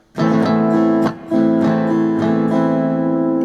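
An acoustic guitar is strummed with a pick in quick, crisp strokes on the intro of "Have You Ever Seen The Rain", several sharp pick-flick accents ringing out over sustained chords, close and alone.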